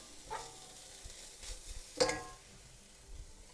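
Garlic hits a hot pan with chicken noodles, giving a few quiet, short sizzling bursts and light stirring clinks, faint and close with no talking.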